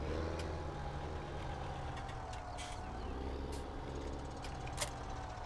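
Tractor engine in Farming Simulator 17 running steadily with a low, continuous rumble throughout, a few brief clanks and hisses on top, no talk.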